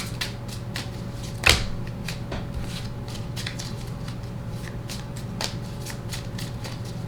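A deck of tarot cards is shuffled in a steady stream of soft riffling and flicking, with one sharper snap early on, over a constant low hum.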